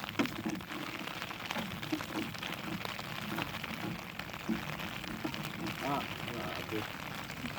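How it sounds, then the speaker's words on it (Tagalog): Rain patters steadily on a surface with a constant hiss, and a few faint clicks and knocks sit beneath it, during a crab and fish catching trip. "hindi pa rin huminto yung ulan"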